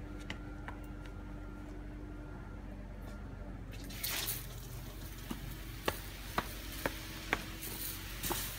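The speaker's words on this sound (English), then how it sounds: "I'm gonna turn on my sprinkler so you can see what this is gonna look like now" Garden sprinkler spraying water over tomato plants in a vertical garden, with a soft hiss that swells after a few seconds, plus a handful of sharp ticks and drips scattered near the end.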